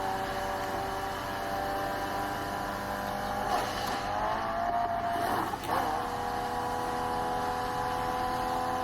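Racing car engine in The Crew Motorfest video game, a steady droning roar that swells in pitch a couple of times near the middle, with no talking.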